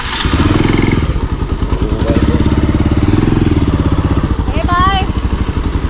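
A motorcycle starting and idling close by before a ride, a loud rhythmic thumping engine throb that surges and settles, with a brief voice near the end.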